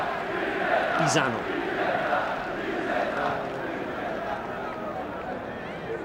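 Football fans in the red-and-white stand at a Serie B match between Vicenza and Cesena: a steady, distant crowd chant rolls on continuously beneath an Italian commentator's voice.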